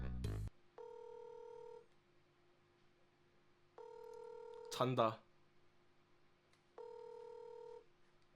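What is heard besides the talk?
telephone ringing while placing a call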